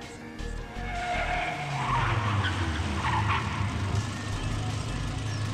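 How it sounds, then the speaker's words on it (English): Car tires skid and squeal as the car spins in a circle in the visual novel game Steins;Gate 0, a loud sustained screech over a low engine rumble lasting several seconds. "The rear's tires slipped. The car spun in a circle."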